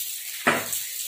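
Patrode, colocasia leaf rolls, frying in a pan of ghee and oil, with a sudden close sizzle bursting up and then settling into a softer hiss.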